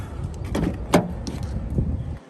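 Rear door of a Suzuki Swift S hatchback opening up close: one sharp latch click partway through, set among soft handling rustles and faint background noise.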